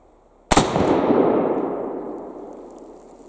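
A single loud report from a sporterized Barnett P53 Enfield percussion rifle, a sharp crack followed by a long rolling echo that fades over about three seconds outdoors.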